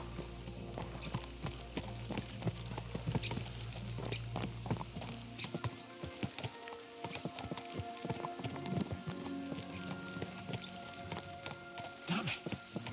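Horses gallop in the medieval video game Kingdom Come Deliverance 2, hooves clip-clopping in a steady rapid rhythm throughout, with a low rumble at first, occasional snorts, and game ambience around them.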